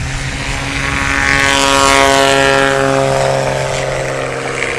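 A STOL airplane's propeller engine at full throttle on the takeoff roll at a STOL competition in Hartford, Wisconsin, a loud, close, steady droning roar that swells slightly and then eases.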